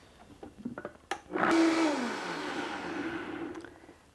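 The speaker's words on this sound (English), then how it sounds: "now we will put it in the blender and blend on high for a couple of minutes" A few clicks and knocks, then a blender blending almonds and water roars to life at high speed and whirs loudly and steadily, settling into a constant grinding hum.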